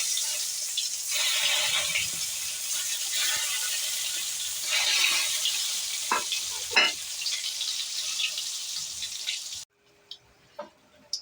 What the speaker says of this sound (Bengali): এবার পটলটা আমি ভেজে ভাজবো।